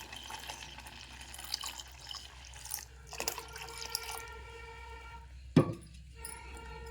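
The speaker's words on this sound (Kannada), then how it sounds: "ಈಗ ಇದಕ್ಕೆ ಹಾಲು ಹಾಕೋತೀನಿ ರೀ" Milk pours into a pot of vermicelli payasam, a soft steady liquid trickle over kitchen background noise, ending in a sharp clatter near the end.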